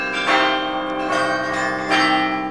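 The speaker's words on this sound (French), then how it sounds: "Quand on vit sous un beffroi ou avec la musique des cloches." Church bells ring from a belfry in Bruges, the strikes swelling in three slow, resonant waves with long humming overtones that blend together, loud and close with no voices.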